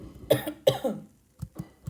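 Two sharp coughs close together, followed by a couple of softer throaty bursts after a short pause.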